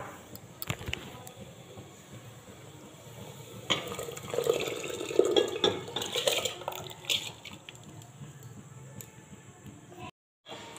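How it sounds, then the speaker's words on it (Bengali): Soaked rice is tipped into a pot of boiling water, bringing a short burst of splashing and bubbling with a few pot and utensil knocks amid kitchen background noise. "জলটা দেখতে পাচ্ছি ফুট টার্ম করেছে, এবার আমরা এর মধ্যে চালটা অ্যাড করে দেবো।"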